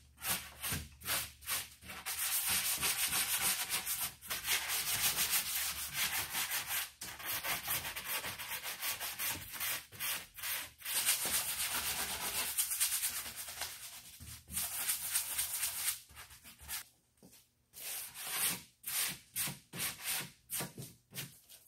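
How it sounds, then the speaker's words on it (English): Hand sanding of wood filler on a cabinet with a small sanding bar, a close, steady scraping rub in long strokes that breaks into quicker short strokes near the end, with no voices. "I just got a regular little sanding bar that you can use to sand."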